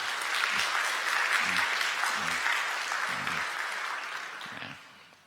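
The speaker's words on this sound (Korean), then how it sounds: "여러분들 박수 보내주시기 바랍니다" Warm congregational clapping in a church during a Sunday worship service, welcoming a member back from military discharge; the steady applause fills the room and fades out toward the end.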